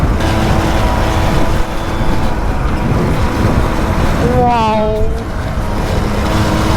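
A 1957 moped engine revs outdoors with wind buffeting the microphone, a steady loud drone that rises in a sweeping pitch climb midway before settling back; a person exclaims briefly.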